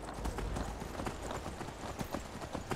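Horse hooves clip-clop steadily in a continuous rhythm while riding in the fantasy video game Skyrim, close and fairly loud over a busy background.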